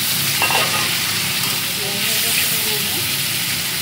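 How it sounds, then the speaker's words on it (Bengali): Chopped onion fries in hot oil in a pan, giving a loud, continuous hiss and sizzle with faint stirring, close up and unbroken. "আমি একটু পেঁয়াজ দিয়ে দিলাম, ভাজা ভাজা হয়ে গেছে"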